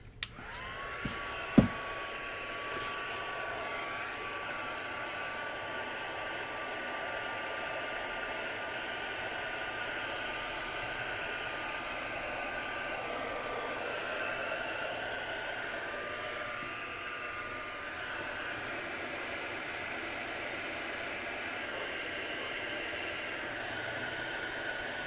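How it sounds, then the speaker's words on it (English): A cheap heat gun dries paint on a palette with a steady, continuous hot-air roar that runs unbroken for about twenty-five seconds after a brief click as it switches on. "I have to get my heat gun out here and just dry it because it's annoying me"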